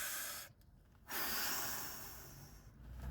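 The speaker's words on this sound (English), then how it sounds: "I've got to get my breathing right." A man breathes heavily in loud, rough, hissing gusts close to the microphone, with a brief pause between breaths.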